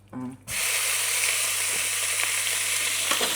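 Chicken sizzling as it fries in a pot for kana tikka masala, a loud, dense, steady crackling hiss that bursts in after a brief opening sound and carries on without pause.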